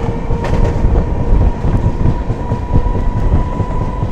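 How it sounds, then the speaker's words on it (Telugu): An Indian local train passing on the railway tracks, producing a loud continuous rumble with rhythmic clacking and a faint steady whine, close by and filling the whole stretch without any voices. "ఏం వెళ్ళిపోతుందండి లోకల్ ట్రైన్,"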